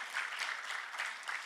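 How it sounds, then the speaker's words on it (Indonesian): A church congregation applauding at a Sunday service, a dense, even clapping that holds steady through the short stretch with no voices over it. "Lebih mantap tepuk tangannya."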